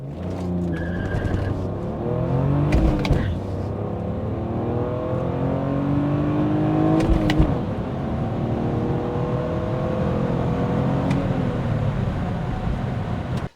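A BMW E46 accelerates hard from a standstill toward 100 km/h, its engine note climbing through the revs with brief gear-change dips and some tire squeal, loud and close with no talking.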